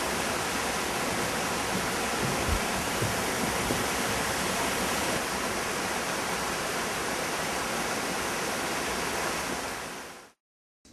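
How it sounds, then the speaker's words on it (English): Trillium Falls waterfall in Redwood National Park pours in a dense, steady roar of rushing water, loud and unbroken for about ten seconds before cutting out. "the sound of the water through the park"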